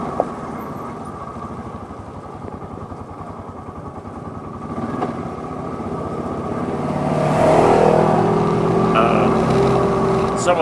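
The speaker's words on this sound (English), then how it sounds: "Oh, here's some traffic on the ATV trail." An ATV rides past on a forest trail near Pittsburg, New Hampshire, its engine droning and building into a louder, rising pass toward the end, with a person talking over it.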